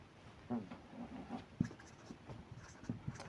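A pen scratches out a Class 9 maths solution on paper, making soft, close, irregular strokes and taps in quick bursts, faint against a quiet room with no talking.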